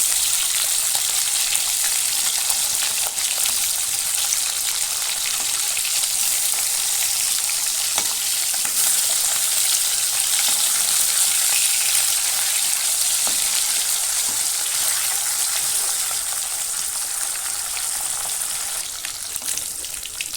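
Flipped pieces of bhetki fish crackle in hot mustard oil, a constant close sizzle with light spattering pops across the whole stretch, no talking.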